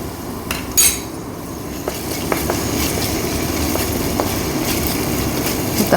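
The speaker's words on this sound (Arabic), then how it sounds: "تقليبي سريعة" A spoon stirs chopped leek, celery, carrot and tomato paste in a cooking pot for lasagna sauce, with scraping clinks against the metal over a steady sizzle.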